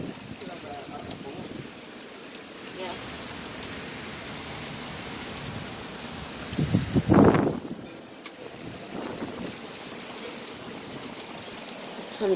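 Heavy rain during a summer thunderstorm at a house, a constant wash of close rainfall with a louder gusting surge midway, with voices heard over it.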